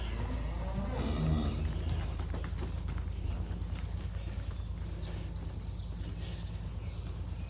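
A cow on a farm gives a low moo near the start, heard faintly under a steady rumbling background with shuffling movement throughout.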